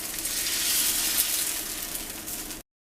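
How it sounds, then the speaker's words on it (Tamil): Dosa batter poured onto a hot dosa griddle sizzles loudly in a steady, dense hiss that holds for a couple of seconds, then cuts off abruptly. "தோசைக்கல் சூடாயிடுச்சு. நம்ம தோசையை ஊற்றிடலாம்."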